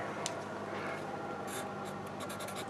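Steady scratchy rubbing of something writing a calculus limit on a board, continuous for a few seconds with brief sharper squeaks near the end, fairly quiet and with no talking.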